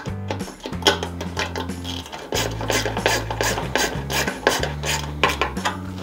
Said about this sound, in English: it goes much easier with a ratcheting wrench